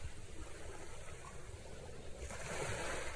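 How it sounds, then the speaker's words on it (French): Ocean waves wash onto a beach in a soft, continuous rush that swells slightly near the end, with no voices. "Fixez-vous sur le bruit des vagues."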